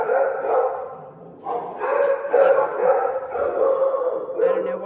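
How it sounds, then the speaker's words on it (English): Several dogs barking excitedly at home, repeated loud close barks and yips in overlapping bursts with no pauses. "I don't know what my dogs are getting busy about, but let's go check it out."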